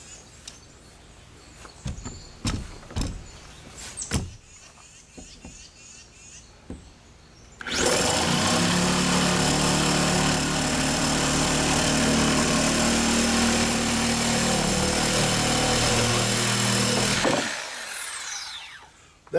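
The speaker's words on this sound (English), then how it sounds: "now I'm going to cut the bars down" Power tool cutting through metal door bars, a loud, steady grinding-sawing drone lasting about ten seconds, then cutting off, after a stretch of scattered knocks and clunks.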